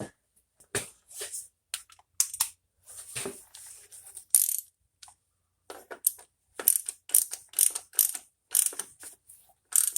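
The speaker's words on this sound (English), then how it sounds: "Let's get a 24 mil socket for that." Ratchet turning a 24 mm socket on a 1989 Volvo 760 Turbo, a series of quick metallic clicking bursts close by, separated by brief pauses, with no talking.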